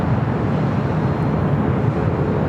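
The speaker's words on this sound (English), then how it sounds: "the Dreamliner" Boeing 787 Dreamliner arriving from London Gatwick at LAX: a loud, steady broadband jet engine roar, continuous and close throughout, with no voices.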